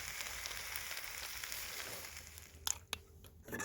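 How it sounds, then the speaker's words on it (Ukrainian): Porridge sizzles and crackles softly as it reheats in a pan outdoors, a steady faint frying hiss broken by a few sharper pops near the end. "Наша каша починає підігріватися. Чутно, чутно, шкварчить."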